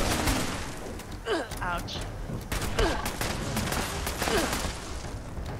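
Rifle gunfire in the video game Fallout 76, during a fight with a level 80 legendary Noxious Sheepsquatch: repeated sharp shots crack through a dense, noisy battle mix, with someone talking and exclaiming over them.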